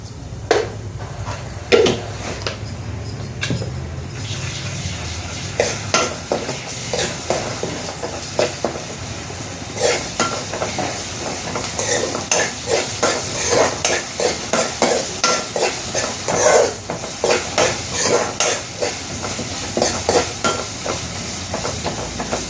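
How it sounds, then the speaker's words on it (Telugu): Ginger garlic paste sizzles and fries in oil in a pan while a spoon stirs it in repeated scraping strokes, the stirring growing busier and more rhythmic over a steady frying hiss, with no talking. "ఇదండి అల్లం వెల్లుల్లి పేస్ట్ ఒక స్పూన్"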